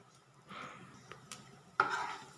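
Shelled peanuts hit hot oil in a pan with a hissing sizzle that swells twice, the second burst louder, broken by a few sharp cracks from the shells. No one speaks.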